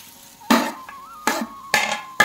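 Mustard greens dry-roasting in a pan without oil, with four distinct bursts of stirring and scraping against the pan at roughly half-second intervals and a faint hiss in between.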